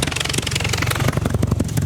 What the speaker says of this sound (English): let's listen into this huge engine